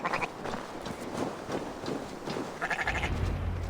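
Sheep bleat repeatedly in Assassin's Creed Valhalla, several wavering calls close by, one after another over a low rumble of game ambience.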